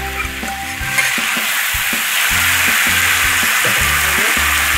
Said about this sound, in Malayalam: ഇനി ചക്കക്കുരു ഇളക്കി